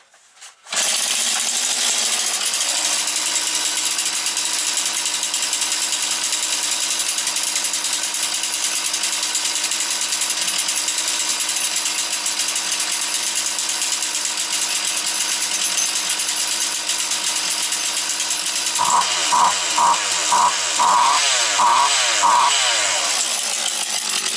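Jonsered 2036 chainsaw starts and then runs steadily at a loud, close, high-pitched idle for over twenty seconds, with a few throttle blips near the end and no talking over it.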